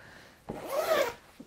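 A Snugpak Jungle sleeping bag zipper being pulled in one smooth, close, quiet stroke lasting about half a second, with no talk.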